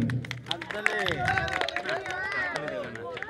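Audience clapping and cheering for the winner of a magic ball game at a village youth entertainment event, with lively voices and shouts mixed through the clapping.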